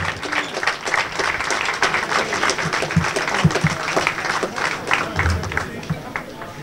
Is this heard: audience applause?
yes